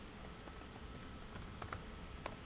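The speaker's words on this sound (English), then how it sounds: "At the bottom here we'll just type in" Keys clacking on a computer keyboard while typing into a web design program, a steady run of light taps with a few sharper strokes, close and fairly quiet with no voices.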